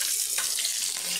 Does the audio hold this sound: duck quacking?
no